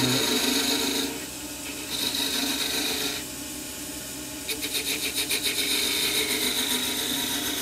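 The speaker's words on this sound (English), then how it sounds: "we're just going to hold the hand and with a thin parting tool" A thin parting tool scrapes against a small ash wood box spinning on a lathe, a steady close rasping hiss that shifts in tone as the cut changes, ending in a faster fluttering chatter.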